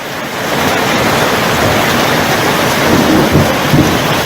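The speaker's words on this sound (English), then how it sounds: "Thunder out there somewhere." Thunder rolls through a thunderstorm with heavy rain, a continuous loud broadband rumble and wash filling the whole stretch, swelling slightly toward the end with no voices.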